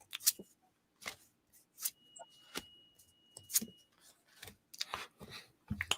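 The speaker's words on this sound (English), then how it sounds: "So I'm going to cut it 3 times. Okay, and then I'm going to shuffle once, and then I'm going to do one more." Tarot deck being cut and shuffled at a table, a series of short crisp papery snaps and riffles at irregular intervals, close and fairly quiet.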